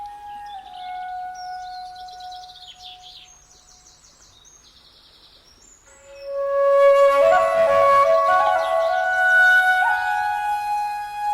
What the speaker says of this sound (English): On lucky days, long-tailed species of birds of paradise fly in for a feed and perform courtship rituals.